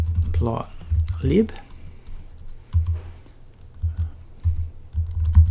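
Computer keyboard typing during a Python coding walkthrough, heard as short irregular bursts of keystrokes spread across the clip, fairly close and moderately loud, with brief pauses between runs of keys.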